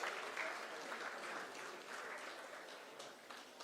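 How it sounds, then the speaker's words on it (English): An audience at a Foundation Day celebration applauds winners of a postgraduate speech competition: steady, dense clapping from many hands, fairly loud and continuous throughout, with no voices standing out. "Please, we have to give them a big round of applause."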